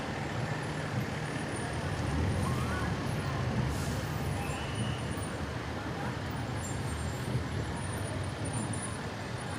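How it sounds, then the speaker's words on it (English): A Bennington Rural Fire Department brush truck rolls past in the Bennington Battle Day Parade, its engine rumble steady and moderately loud, blended with broad road and crowd noise throughout. "And the brush truck from the Bennington Rural Fire Department."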